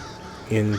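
A single crow caw from The Elder Scrolls Online rises loud and brief at the end after a quiet stretch, close and clear.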